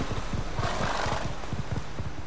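Horses in the video game The Witcher 3 whinny and neigh over a steady clip-clop of hooves, a continuous, fairly loud rumble of animal calls and rhythmic footfalls with no talk.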